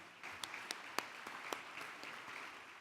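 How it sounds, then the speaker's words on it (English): Audience applause at the LULAC National Convention presidential awards, a steady, moderately faint wash of clapping with a few sharper individual claps standing out. "Ladies and gentlemen, please give him a round of applause."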